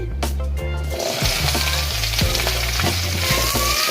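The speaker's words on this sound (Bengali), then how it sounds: "ভেন্ডিগুলো তেলের মধ্যে দিয়ে দিচ্ছি।" Okra dropped into hot oil in a wok, a loud bright sizzle that flares up at once and holds steady, with low clanks of the pan underneath and no talk.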